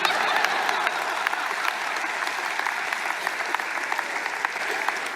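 An audience at a ministry talk claps continuously, a thick wash of many hands with scattered sharper individual claps, steady and then easing slightly toward the end.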